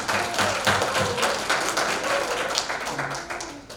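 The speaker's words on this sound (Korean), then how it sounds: "네, 박수." Church congregation applauding during a Bible study session, a dense run of hand claps that gradually fades, with a little background voice.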